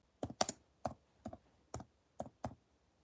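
Keys clatter on a computer keyboard in short bursts of two or three quick taps, spaced at a steady pace with quiet gaps between them, close and fairly soft with no voices.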